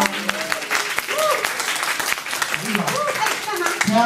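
Applause from an audience after a speech in Taiwanese at a speaking club event, steady dense clapping filling the room for the whole stretch, with voices mixed in.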